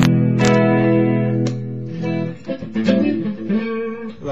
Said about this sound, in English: I'll take the distortion off of this thing